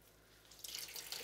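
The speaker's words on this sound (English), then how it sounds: "I am just going to pick these up and kind of squeeze out some of the water." Water running and dripping into a sink as wet, blue-dyed yarn skeins are squeezed out after dyeing, a soft steady trickle that swells to a louder splashing spatter.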